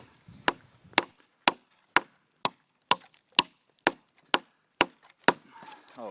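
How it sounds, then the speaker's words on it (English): A Becker BK2 knife chops into wood in ten sharp, evenly spaced strikes about half a second apart, each a loud close crack with a quick decay, ending in a brief scrape. "I love how this thing chops"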